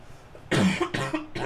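Three sharp, close coughs from one person come in quick succession, each a loud, rough burst with a short gap between.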